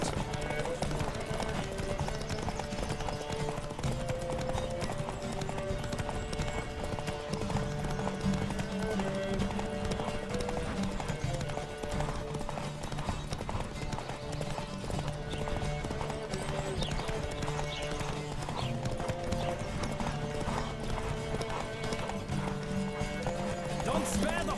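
Horse race in The Witcher 3: rapid, steady clip-clop of galloping hooves over a constant layer of game music and ambience, with the occasional whinny, continuing evenly throughout at moderate level.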